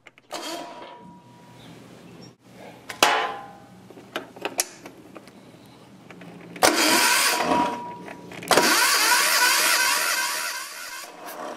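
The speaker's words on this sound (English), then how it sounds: "crank the engine." A Yanmar diesel engine on an Aurora generator cranks over with its high-pressure fuel line loosened, bursts of starter whirring separated by clicks and pauses, loudest in two long cranking runs near the end.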